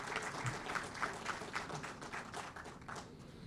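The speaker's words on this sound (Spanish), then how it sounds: "Recibimos también con fuertes aplausos al señor Paulino Machaca Ari" Audience applause welcoming a university rector at a public university meeting, steady moderate clapping from a modest crowd that stays fairly even throughout.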